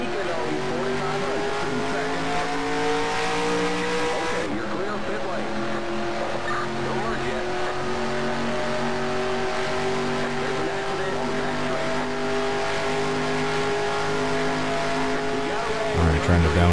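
Stock car engine in the NASCAR Racing 2003 video game, a loud continuous drone with a sharp pitch jump as it downshifts, then sustained high revs with faint tire squeal near the end.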